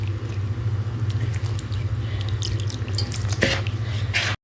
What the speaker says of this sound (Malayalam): തേങ്ങ വെള്ളം കുറേശ്ശെ ഒഴിച്ച് നമുക്ക് ഈ പൊടി നനച്ചെടുക്കണം.